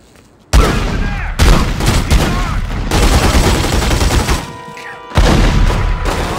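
Gunfire bursts from The Godfather 2 video game, dense rapid volleys in several loud clusters separated by brief pauses, with thuds and booms mixed in.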